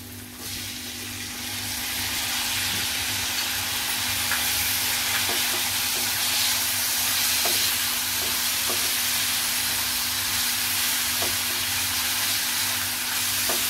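Tomatoes fry in a brinjal masala with garlic, giving a steady, loud, continuous sizzle and hiss that holds throughout with no voices.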